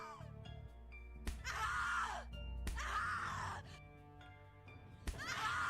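A woman screams in fear in the horror video game The Cat Lady, with repeated anguished cries rising in bursts over dark ambient music and dull thuds.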